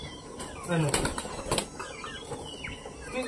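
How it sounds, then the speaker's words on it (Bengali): Pigeons flap their wings in flight, a string of quick fluttering bursts and soft clatters close by, with faint voices and a brief coo-like note underneath. "পায়রাদের দেখেছ"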